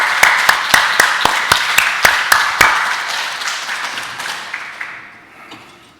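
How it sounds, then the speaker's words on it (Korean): Applause in a church during a Sunday worship service, sharp rhythmic claps in unison in a reverberant hall, then the clapping breaks into looser scattered applause that fades away. "두 분을 위해서 우리 박수 한번 올려드리겠습니다."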